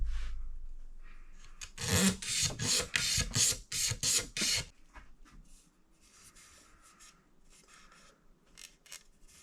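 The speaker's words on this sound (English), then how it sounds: "lots and lots and lots of scraping to get that sanding sealer off" Rhythmic rasping strokes of a scraper removing thick sanding sealer from a wooden Stratocaster guitar neck, a quick run of about a dozen passes, then fainter intermittent scraping.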